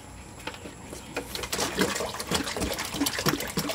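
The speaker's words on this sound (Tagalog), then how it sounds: "Lagyan natin ng tubig." Clean water is poured into a duck egg incubator to keep up humidity on day eight of hatching, making a close, continuous splashing and gurgling that grows fuller as it goes on.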